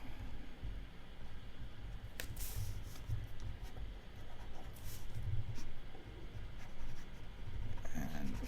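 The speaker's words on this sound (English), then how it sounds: "Let me just draw that in." A pen scratches across paper as a gun's aiming reticle is sketched in a comic drawing, a soft continuous rubbing with a few quick strokes, close and quiet over faint room noise.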